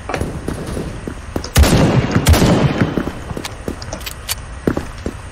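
Shotgun gunfire in the first-person shooter Krunker.io, a loud burst of blasts mid-way followed by scattered lighter shots and clicks against a busy game background.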